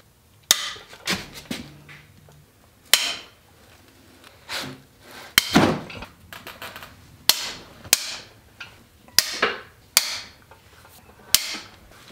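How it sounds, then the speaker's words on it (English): Sharp metallic cracks and clunks from a breaker bar breaking loose tight cylinder head bolts on a Fiat 500 engine, a dozen or so close, loud snaps at irregular intervals with softer ratcheting and shuffling between them, no talking. "I'm using my breaker bar because these are on there tight."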